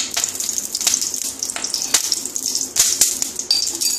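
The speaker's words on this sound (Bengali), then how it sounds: "কড়াইয়ে তেল দিয়ে দিলাম 2 টেবিল চামচ তেল" Two tablespoons of oil heat in a kadai, giving off an irregular, close crackle and sizzle with sharp pops and spits scattered through a quieter hiss.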